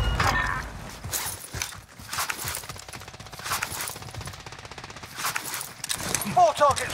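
Rapid bursts of automatic gunfire crackle through a Call of Duty Warzone Rebirth Resurgence match, loud and sustained with scattered single shots, while a player talks over the shooting.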